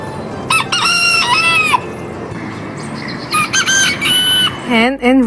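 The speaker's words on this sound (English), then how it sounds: "Rooster." A rooster in a farm-animal sounds lesson crows loudly and close, with several long drawn-out calls separated by brief pauses and a final wavering squawk at the end.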